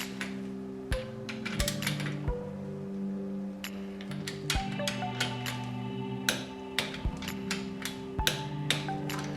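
Bolts on a Suzuki GS550 motorcycle being tightened with a torque wrench in a workshop, heard as a steady run of sharp metallic clicks and knocks at irregular intervals over a constant low hum.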